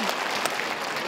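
A short burst of audience applause at a concert, dense and steady clapping from a crowd.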